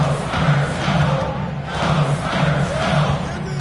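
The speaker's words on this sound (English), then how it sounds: "Give them another round of applause." A basketball arena crowd applauds and cheers steadily during a late fourth-quarter game, a dense, sustained roar of clapping and voices filling the whole stretch without a break.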